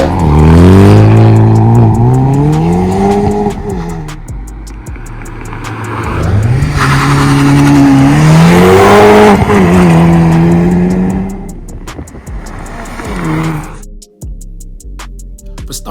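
A 2022 Hyundai Veloster N with a manual gearbox accelerating hard on a drive, the engine revving loudly and close through rising gears with shift breaks, and an engine drone dropping away near the end.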